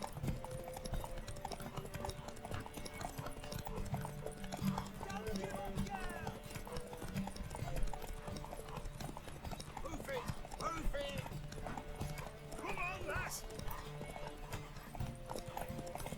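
A horse trots in the video game The Witcher 3, its steady clip-clop hoofbeats broken by an occasional whinny, while voices talk over the scene.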